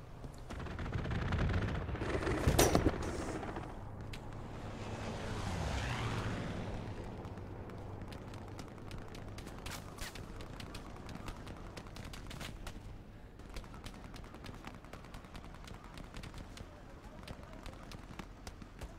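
Gunfire in the console war game Hell Let Loose, with sharp shots clustered early and scattered distant cracks continuing over a steady battlefield rumble, under occasional talk.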